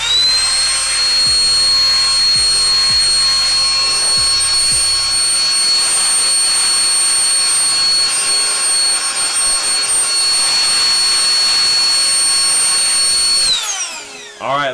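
A Massive Tech X3 Hurricane electric air duster blows dust out of a Nintendo Switch with a loud, steady high-pitched whine and rushing air. A few low knocks come early on, and the motor winds down sharply at the end.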